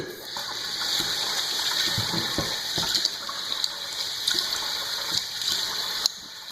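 Running water flows steadily and close by as a razor is rinsed after a shaving pass, a continuous rushing wash with a few faint knocks and taps beneath it.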